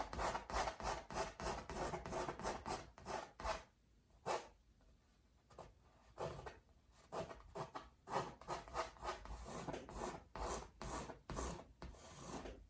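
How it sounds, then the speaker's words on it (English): A palette knife or scraper rasps paint off a canvas during a wet-on-wet landscape painting, a long run of close, loud, rhythmic strokes with a brief quieter pause midway. "Scrape as much of that as you can get off."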